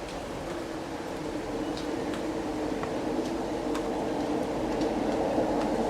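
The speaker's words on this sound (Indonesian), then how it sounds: "Yang saya naik ini adalah LRT." Light rail (LRT) train ride in Kuala Lumpur between Pasar Seni and Kampung Baru, with a steady rumbling interior hum of the moving carriage, faint clicks and squeals along the track, and no talking.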